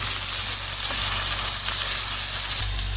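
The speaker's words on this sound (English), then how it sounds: "Put the flame on high and cook your onions until they are nicely browned" Chopped onions frying hard in oil over a high flame, a loud continuous sizzle with a low burner rumble beneath, steady throughout with no talking.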